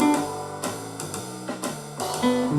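A jazz lick rings out on guitar as a short phrase of clean, sustained single notes and chord tones, plucked at a moderate pace, close and clear, with no talking.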